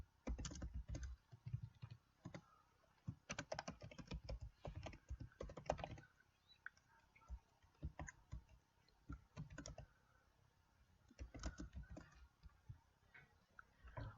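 Fingers tap out bursts of clicks on a computer keyboard while Java code is entered in Eclipse, close and crisp, with quieter pauses between clusters of keystrokes.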